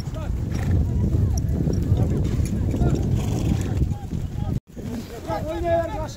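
Horse hooves clip-clop through a lively, crowded outdoor scene at an ulak horseback game, a running patter beneath constant shouting and chatter, with a voice calling out near the end.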